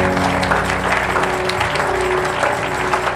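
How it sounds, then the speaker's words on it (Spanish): A church congregation claps loudly and continuously during a worship service, a thick, sustained roar of applause with a low background hum and scattered crowd noise beneath it. "Denle un fuerte aplauso a Dios"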